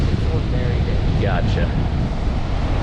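Strong wind blowing across an open beach, a dense continuous roar buffeting the microphone, loud and unbroken, with a brief spoken word and faint bird calls in the middle.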